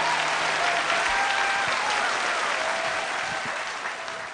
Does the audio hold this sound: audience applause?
yes